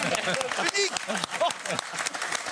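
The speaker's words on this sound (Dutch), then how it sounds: "Dames en heren, applaus!" Studio audience applause on a Dutch television talk show, a brisk burst of clapping with voices and exclamations over it.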